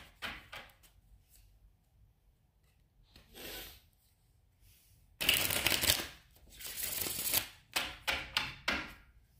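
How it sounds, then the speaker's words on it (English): Tarot cards are shuffled in several rapid riffling bursts, close and crisp, with brief quiet pauses between them and no talking. "One more shuffle."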